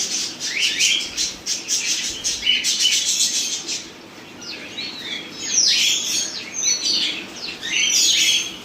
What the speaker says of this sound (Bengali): এখানে একটা বদ্রি আছে